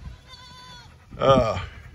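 Goats in a farm pen bleat twice in close succession, a thin steady cry then a louder, rougher wavering one, near and clear over faint background noise.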